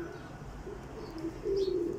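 Soft pigeon cooing from breeding pigeons rises near the end, a low warbling coo over faint background rumble.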